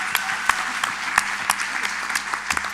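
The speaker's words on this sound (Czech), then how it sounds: "Obrovský potlesk, dámy a pánové" Scattered applause from a talk-show audience for the show's sound engineer: thin, uneven clapping with a few sharper individual claps standing out, moderately close and fairly quiet.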